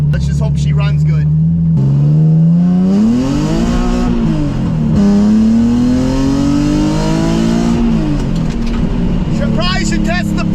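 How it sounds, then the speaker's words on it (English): A loud project car's engine revs hard up toward 7,000 RPM, its droning tone climbing, dipping and climbing again for several seconds, with someone talking briefly before and after the pull. "I'm gonna try to talk a little loud because this car is loud right now"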